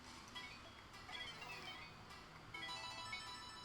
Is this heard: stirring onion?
no